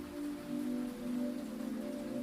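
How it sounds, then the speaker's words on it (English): Steady, soaking rain on a quiet late night in the city, a continuous even wash of drops with no pauses, moderately faint and heard alone without voices. "Rain has been falling for hours."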